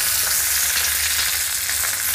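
Pearl spot fish wrapped in banana leaf frying over a small flame in a pan, a steady dense sizzle with continuous crackle, close and even throughout, no voices.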